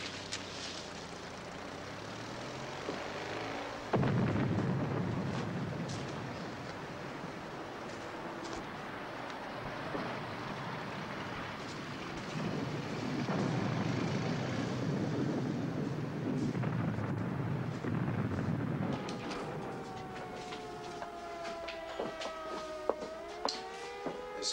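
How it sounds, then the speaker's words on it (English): Film sound effect of an air raid: a rumbling roar of aircraft and explosions with crackling debris swells through the scene, then droning engine tones and rising, warbling pitches take over near the end, with no voices. "Yes, you can call off the air raid."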